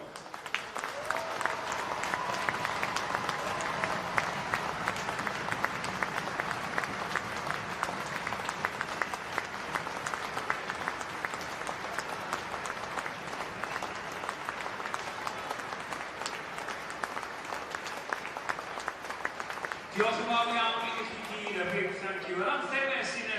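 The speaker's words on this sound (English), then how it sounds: "Please, can you show your support during a period of applause?" A stadium crowd applauds steadily and loudly for a long stretch before a Wales versus Scotland women's Six Nations rugby match, with the clapping continuing as other sounds come in near the end.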